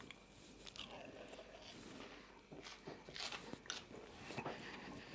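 Someone bites into a hot, crispy cheese and onion pasty, with quiet, close crunching and chewing sounds in several soft bursts and no speech.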